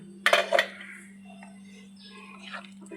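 A metal lid clanks down onto a cooking pot in a home kitchen, two quick clattering knocks close together near the start, followed by quiet with a steady low hum in the background.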